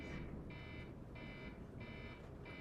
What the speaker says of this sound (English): That's our alarm that we would have had if we had comp check.